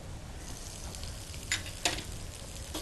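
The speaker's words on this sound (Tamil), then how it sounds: "இப்போ இந்த பதத்தில் நம்ம தேங்காய் பூவை அதில் கொட்டிடலாம்" Grated coconut poured into hot ghee, frying with a steady close sizzle and stirring scrapes, and two short bright crackling bursts as it hits the fat.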